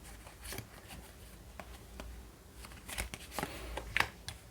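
Tarot cards being shuffled and laid out, a quiet, close series of soft papery riffles and light slaps at irregular intervals.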